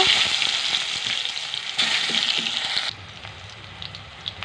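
Chopped onion sizzles steadily in hot oil in a pan for an egg curry, a dense, close crackling hiss that shifts and eases slightly as the onion settles; nobody speaks.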